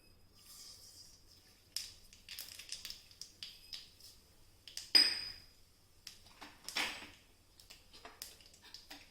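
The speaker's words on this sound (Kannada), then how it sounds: "ಎಣ್ಣೆ ಬಿಸಿ ಆದ ತಕ್ಷಣ ಸಾಸಿವೆ ಹಾಕ್ತಾ ಇದ್ದೇನೆ." Mustard seeds spluttering in hot coconut oil in a pan: quiet, scattered sharp pops and crackles come at irregular intervals against near silence, with a couple of louder bursts.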